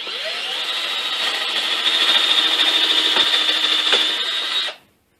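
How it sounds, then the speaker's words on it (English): A bit drills holes through a wooden Forstner bit holder, a steady high whir lasting about four and a half seconds with faint scraping, then stopping abruptly. "now I'll just finish drilling them through by hand"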